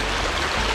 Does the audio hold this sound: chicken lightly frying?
no